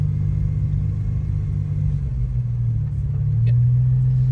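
A Porsche 911 GTS Turbo with a PDK gearbox creeps forward at very low speed on crawl take-up with barely any throttle. Its engine holds a low, smooth idle rumble that rises only slightly near the end.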